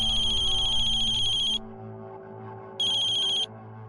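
A phone ringtone chimes in two electronic bursts separated by a short silence, loud and close, with a low hum continuing underneath.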